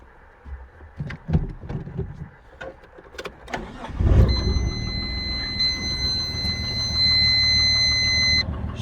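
A car engine cranks over after several clicks and thumps, catches, and settles into a loud, steady cold idle, with a high whine running through the running engine.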